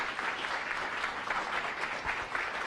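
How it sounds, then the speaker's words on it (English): Audience applause at an evening Science Cafe talk on toxic chemicals and human health, a steady dense clapping that fills the room throughout, with no voices over it. "Let's give him one more round of applause."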